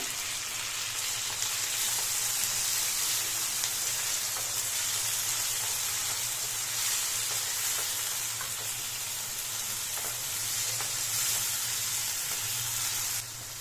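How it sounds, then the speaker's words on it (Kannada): Chopped tomatoes frying with ginger and garlic in a pan, a steady, close hissing sizzle that holds evenly throughout with light crackles and no talking. "ಟೊಮೆಟೊ ಚೆನ್ನಾಗಿ ಸಾಫ್ಟ್ ಆಗಬೇಕು ಅಲ್ಲಿವರೆಗೂ ಚೆನ್ನಾಗಿ ಫ್ರೈ ಮಾಡಿ"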